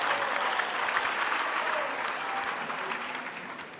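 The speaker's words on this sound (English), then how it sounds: "a round of applause to the beautiful Butterworth choir" A university graduation audience applauds a choir, a dense, steady roll of clapping from a large crowd that slowly fades toward the end.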